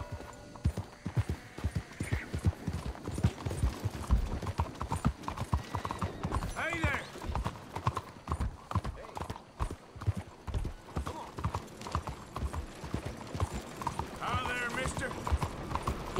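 In Red Dead Redemption 2, horse hooves clip-clop in a steady walking rhythm on the ground, with an occasional whinny, while a player talks over the game sound.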